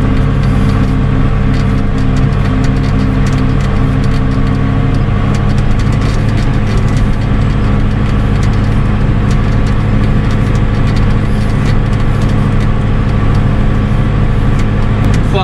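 A farm tractor rolls steadily at about 10 km/h while spreading fertilizer on a wheat field, its engine a loud, constant low drone heard from the cab throughout, with no talking.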